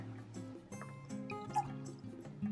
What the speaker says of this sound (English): I'm just gonna pour my RODI in.